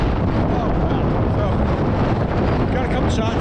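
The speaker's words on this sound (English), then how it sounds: "It's super windy" Strong, steady wind high on a mountain buffets the microphone with a loud, unbroken roar across the whole stretch, never easing, with no voices heard over it.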